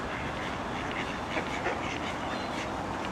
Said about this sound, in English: Those ducks are having a chat.